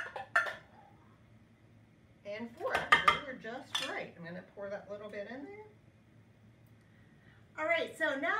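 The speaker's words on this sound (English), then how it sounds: "So we're going to take this prepared fruit and put it right into our nice heavy bottom steel pot" Fruit tips into a heavy-bottomed steel pot, giving a few close clattering knocks of metal and dish, with talk over and between the handling sounds in a kitchen.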